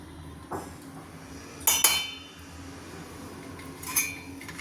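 Metal spoon clinking against a metal vessel while custard apple pulp is scooped in, a few sharp close knocks and scrapes spaced apart.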